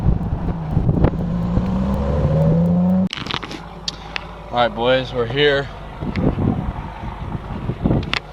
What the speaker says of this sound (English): I apologize because I know it's going to be a little bit windy